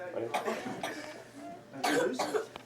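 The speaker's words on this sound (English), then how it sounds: "Who's coughing? Are you okay?" A couple of quick coughs, then two more sharp coughs close by, with faint background chatter.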